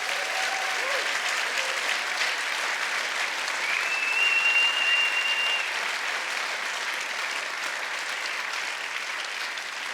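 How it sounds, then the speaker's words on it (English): Theatre audience applauding the actors after a performance, a steady dense wash of clapping that holds for the full stretch, loud and sustained with a faint whistle partway through. "So can we give them a round of applause?"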